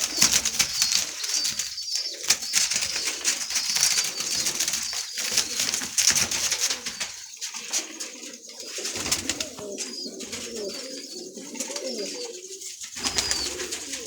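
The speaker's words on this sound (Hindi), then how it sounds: "ए तो कबूतरी बैठी, हाँ ए कबूतर बैठा है।" Pigeons in a loft coo in repeated low, rolling calls, with bursts of wing flapping breaking in at times; the birds sound close and steady over a constant background.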